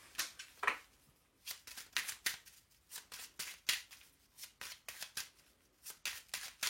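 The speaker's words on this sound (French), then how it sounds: "Allez, on va faire le tirage à 13 cartes." Playing cards shuffled for a 13-card divination draw, a run of brisk riffling bursts repeating in an irregular rhythm, close and fairly quiet with no talking.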